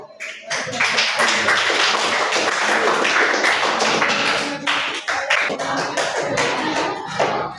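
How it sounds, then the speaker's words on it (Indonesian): Students in a ninth-grade junior high science class clap for a group, a loud dense burst of many hands that starts abruptly and keeps going unevenly for several seconds. "Tepuk tangan untuk kelompok."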